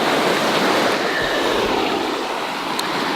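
Spring floodwater rushes past in Järvsö, Sweden, a loud, steady roar of churning water heard up close with no voices over it.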